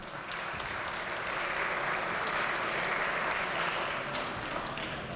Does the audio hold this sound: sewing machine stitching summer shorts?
no